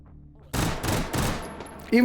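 Burst-fire pistol in a video game, three-round bursts cracking out in quick clusters, loud and close, with a brief electronic tone at the end.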